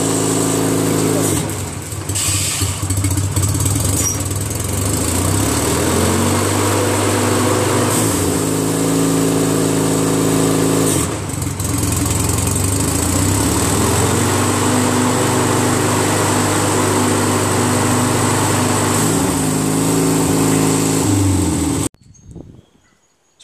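A DYT 4000 riding lawn tractor running with its PTO engaged, a loud steady engine drone with mower whine that holds for over twenty seconds, a couple of brief dips, then cuts off abruptly near the end.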